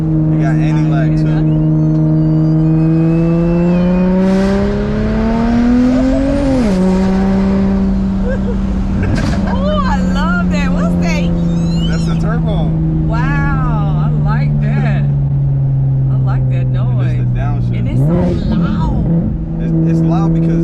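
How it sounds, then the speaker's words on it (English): Single turbo BMW 335i engine droning loud and close as it downshifts with sharp pitch drops and anti-lag pops, while people talk over it inside the car. "Listen to the downshift. You got anti-lag too."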